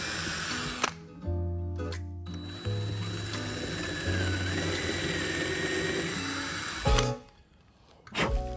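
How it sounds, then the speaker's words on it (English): A power drill countersinks screws into wood for mounting hooks on a wall, running in several bursts with ratcheting whirs and short pauses between, close and loud. "I'll countersink the screws first"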